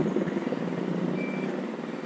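Steady roar of road traffic, a continuous low rumble of passing vehicles with a faint beep briefly rising above it.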